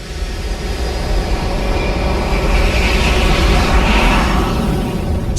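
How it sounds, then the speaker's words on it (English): A jet engine roar from a cinema surround-sound demo, a loud, dense, broadband rumble that swells steadily over several seconds and holds at full strength without any voices. "to the thunder of a jet engine"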